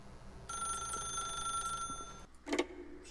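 A video game telephone rings in The Stanley Parable, a steady electronic trill held for about two seconds, followed by a brief clatter as the handset is picked up.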